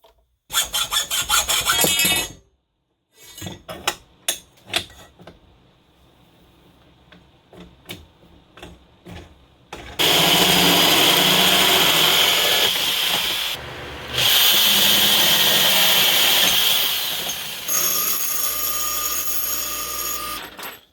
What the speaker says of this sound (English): Cuts fish mouth ends in your tubing.